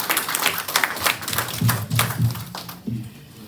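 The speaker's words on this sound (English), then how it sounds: "And so everybody, warm round of applause for Lynette Winter." Small audience at a variety show clapping as a performer is introduced, an uneven patter of hands with a few louder claps, fairly close and fading near the end, with some voices mixed in.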